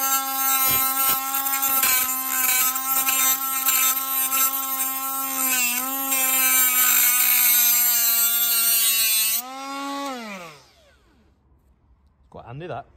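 An angle grinder cuts into metal while a low-loader trailer is being repaired, giving a loud, steady high whine that wavers slightly, then winds down and fades to near silence.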